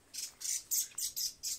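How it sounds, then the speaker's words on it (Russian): A small bird sings loudly and close at a dacha garden among lupins, giving six quick bright bursts in a regular rhythm with no other sound. "Много птички."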